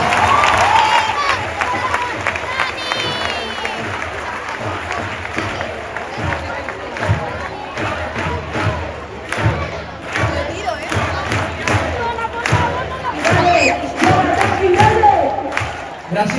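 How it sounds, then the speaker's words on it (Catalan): A large stadium crowd applauds and cheers for the Barça team, a dense, sustained roar with clapping and shouts over the full stretch, loud and continuous, with voices mixed into the din. "Un fort aplaudiment per vosaltres"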